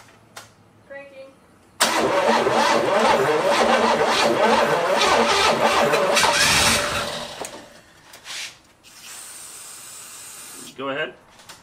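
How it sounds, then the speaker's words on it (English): An old muscle car engine, stored unused for 33 years, cranks loudly and steadily for about five seconds with a rhythmic starter churn, then cuts off, leaving brief voices and a few short mechanical noises. "Cranking."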